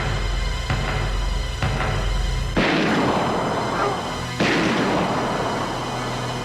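Gunshots in the 1985 film Tuff Turf: two sharp loud cracks with booming echoing tails ring out over a low background hum, with no talk.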